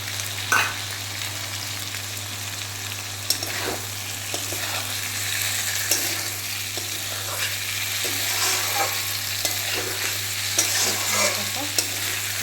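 Vegetables, fried earlier, are added to a pan while a small-fish dish cooks. A constant sizzle runs throughout, with intermittent scraping and clinking of a utensil stirring against the pan.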